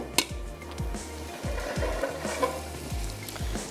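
Food frying in hot oil in a home kitchen while preparing vegetable fried rice, a steady close sizzle with soft stirring and occasional scraping in the pan, no voices.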